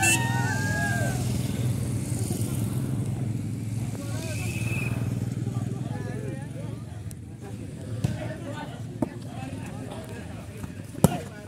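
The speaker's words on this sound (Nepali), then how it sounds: "बाइक पनि र्यालीमा आइसकेको छ।" A motorcycle engine rumbles steadily near an outdoor volleyball match between Shankharpokhari and Limithana at Phalewas, sitting under continuous excited commentary, with a few sharp knocks toward the end.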